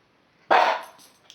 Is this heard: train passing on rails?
no